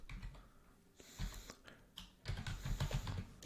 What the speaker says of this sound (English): And here you'll start typing in all the requirements you need to have.